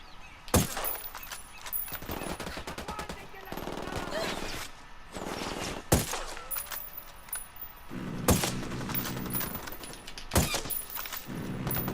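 Gunfire in Ghost Recon Wildlands breaks out in several sharp, loud bursts and single cracks spread across the scene, with quieter rattling and ambient noise between shots.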